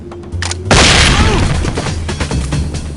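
A flashbang grenade detonates in the SWAT 4 video game as one sudden loud boom. The blast is followed by a long, noisy ringing decay, with a brief tone and faint game sounds just before it.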